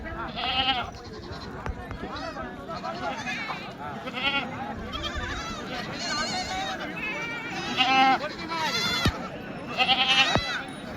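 Goats and does bleat repeatedly at a busy weekly goat market in Bolda, Kalamnuri taluka, Hingoli district, their wavering cries close and loud amid someone talking and crowd noise.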